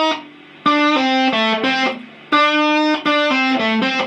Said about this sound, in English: So these are what are called quarter bends.